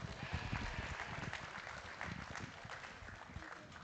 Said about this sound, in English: let's give these young people a round of applause